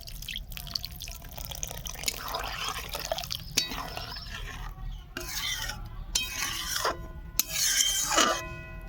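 Water added to a pan of tilapia in mustard and poppy-seed paste, with hissing splashes, drips and scraping bursts close by.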